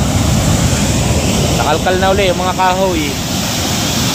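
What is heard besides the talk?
ocean waves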